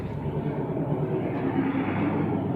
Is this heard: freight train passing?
yes